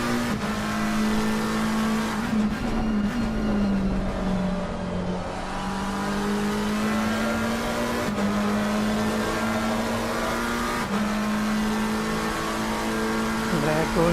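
Onboard engine of a GT race car on a qualifying lap at Watkins Glen, a loud continuous engine note rising and falling through shifts and corners, with faint tyre noise and occasional brief talk.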